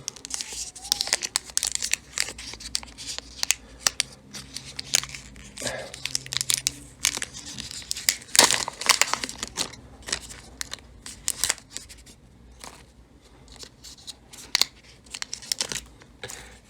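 Plastic protective film being peeled and torn off a new Xiaomi Watch Lite smartwatch during unboxing, close crinkling and tearing bursts in an irregular rhythm throughout.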